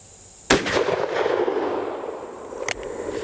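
Gunshot from a Taurus Raging Hunter .460 S&W Magnum revolver fired at an outdoor range with a 100-yard steel target: one sharp, loud blast with a long rolling echo, then a smaller crack about two seconds later.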